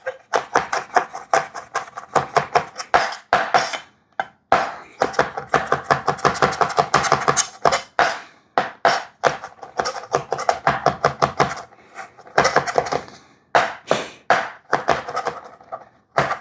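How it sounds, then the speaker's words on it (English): A knife minces garlic on a cutting board in fast rhythmic bursts of sharp chops, close and crisp, with brief pauses between runs. "So now we're going to mince this garlic, cut them across."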